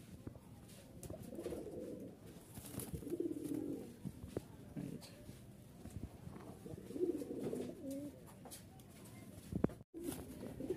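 Pakistani teddy pigeons, a male and female pair, cooing softly in repeated low bursts at close range, with faint background patter and a brief thump near the end.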